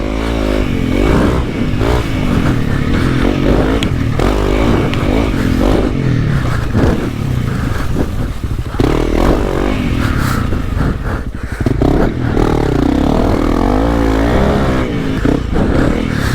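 A Honda CRF300L dirt bike ridden on a track, its engine droning loud and close throughout, rising and falling with throttle and gear changes, with no break in the noise.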